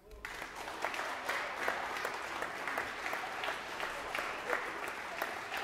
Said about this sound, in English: Good job clapping.